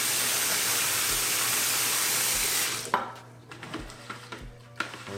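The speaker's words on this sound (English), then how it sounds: "Mix it up with the brush a little bit" A brush works shoe cleaning solution into a lather, a steady wet, fizzy scrubbing hiss that stops partway through and gives way to a few scattered taps and handling knocks, close and quiet, with no speech.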